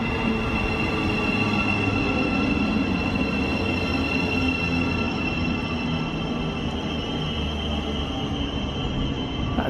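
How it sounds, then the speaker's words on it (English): A train leaving Hitchin station for Letchworth rumbles steadily on the tracks with a continuous low roar and faint metallic squeal, sustained throughout, no voices. "Train just leaving, going to Letchworth"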